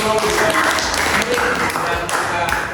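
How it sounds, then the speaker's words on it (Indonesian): An audience applauds a student group during a school presentation on Surah Al-Maidah verse 48. The dense, steady clapping lasts throughout, with voices talking over it. "Sekali lagi tepuk tangan untuk"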